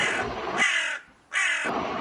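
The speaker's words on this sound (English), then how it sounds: "What sound do crows make?" A crow caws twice, loud and close, each harsh call lasting over half a second with a short silence between.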